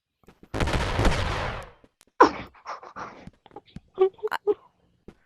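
Fireworks go off: a rushing whoosh and crackle, then several sharp pops and bangs at close range, mixed with excited voices and exclamations.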